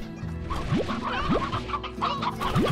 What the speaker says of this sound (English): We need a lot of stony hens for this.